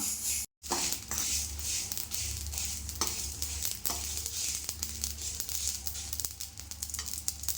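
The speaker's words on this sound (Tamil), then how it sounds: "கடுகு வெந்தயம்லாம் பொரிஞ்சு வருது, வெந்தயம் நல்லா பொன்னிறமாக மாறி வருது" Mustard seeds and fenugreek spluttering in hot oil on low flame, a steady close sizzle dotted with small crackling pops, with one brief dropout near the start.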